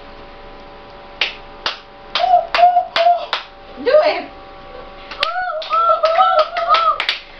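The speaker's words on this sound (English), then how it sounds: "So this is the Kalapati Clap." A class performs the Kalapati Clap in a Grade 6 math lesson: sharp rhythmic claps and finger snaps in quick bursts, with a pause before a second round, while a voice calls out over them.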